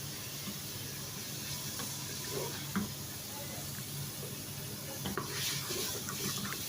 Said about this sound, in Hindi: चम्मच चलाते रहेंगे इसमें